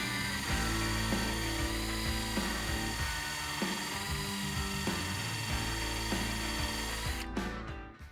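A power drill whirs steadily with a metallic scraping and grinding as a wire hosel brush spins inside a golf club hosel, running nearly continuously.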